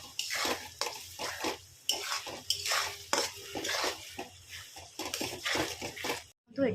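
Masala spices stirred and fried in a pan for an Odia potato dum biryani, a spoon scraping and clinking against metal in repeated short strokes over a soft sizzle, fairly close.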